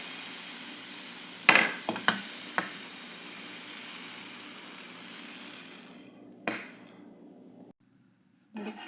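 Thin marisil batter, a pancake-like mix without baking powder, sizzles steadily on an oiled non-stick pan, with a few sharp clicks early on before the hiss fades and briefly cuts out.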